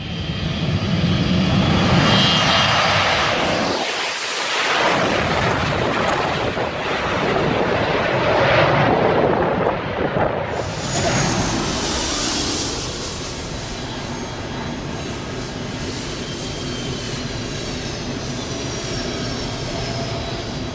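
An overloaded Aerosucre Boeing 727 jet strains down the runway on takeoff, its engines roaring loud and steady for the whole stretch with a swelling whine partway through.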